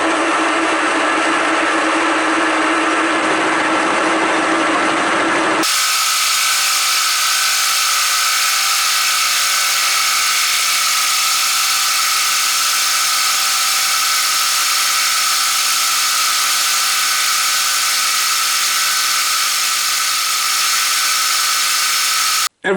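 Milling cutter taking a 1 mm deep cut while slotting steel for an arbor press build, a loud sustained machine whine that shifts in tone early on and stops abruptly at the end.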